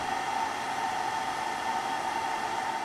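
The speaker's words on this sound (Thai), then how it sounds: "เสียงพัดลมของ Power Module เนี่ย ดังจนรู้สึกได้เลย" A steady, loud fan whir from the power module of a Snapmaker 3D printer, a constant airy hum that holds unchanged throughout with no voices.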